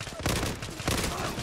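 Rapid bursts of gunfire crack out in the online shooter Zula, several overlapping shots in quick succession, loud and close.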